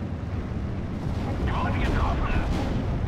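Off-map artillery shells land in Steel Division: Normandy 44, a dense rumbling roar of explosions and low booms merging into a continuous heavy barrage with brief crackling bursts on top.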